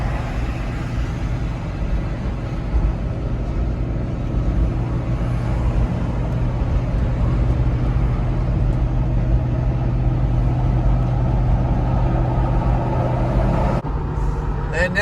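Inside a Porsche Cayenne towing on a highway, a constant loud roar of road and engine noise continues unbroken from start to finish.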